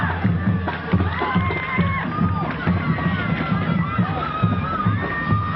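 A crowd cheers and shouts in the stands at a 1993 high school football regional championship. The dense, lively hubbub holds steady, with whistles and voices rising over it.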